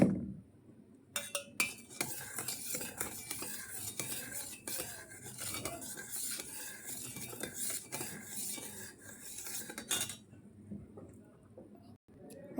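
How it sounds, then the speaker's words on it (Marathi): A spoon stirs salt into a mixture in a container, with quick metallic clinks and scraping taps, irregular and close, fading to quiet near the end. "मग त्याला आता मिक्स करणार आहे चमच्याने"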